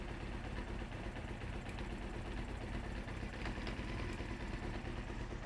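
A 1993 Honda CBR900RR motorcycle engine idles in a garage, giving a faint, steady low rumble that carries on without a break, blowing blue smoke after its first start.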